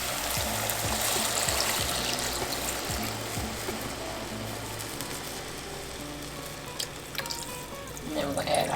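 Water streams steadily into a cooking pot for seafood paella, a continuous splashing rush with faint clinks, while a voice speaks quietly underneath.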